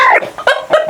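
A Rhode Island Red rooster gives three or four short, loud clucking calls close by, in about a second.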